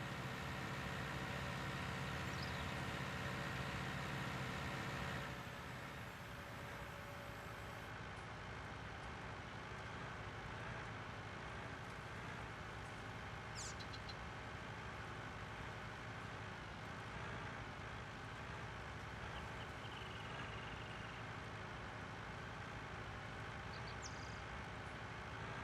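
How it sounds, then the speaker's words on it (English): A tractor engine drones steadily while driving with an empty trailer in Farming Simulator 19, a continuous faint rumble that shifts in tone after a few seconds and carries on with small clicks. "Tractor definitely goes a lot faster when it's empty."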